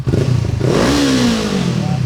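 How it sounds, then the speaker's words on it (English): A Honda CBR500 motorcycle fitted with an aftermarket exhaust revs hard and close, its thumpy engine note climbing and then easing off in a loud, continuous burst. "I feel like this has a thumpier exhaust. Obviously this is a aftermarket one"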